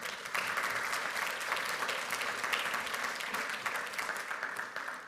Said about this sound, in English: Give yourselves, please, a round of applause for being here.